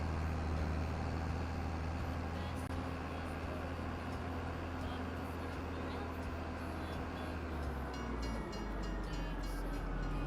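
In Farming Simulator 25 a train rolls past with a steady, loud, low rumble and rattling wagons that continue without a break for about ten seconds.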